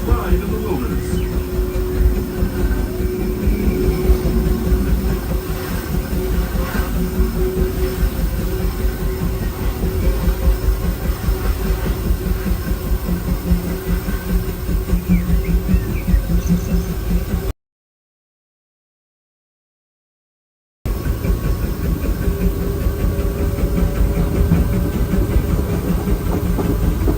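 The Big Thunder Mountain mining train ride at Disneyland rumbles loudly and steadily with clattering track noise, broken by a few seconds of silence before the roar resumes.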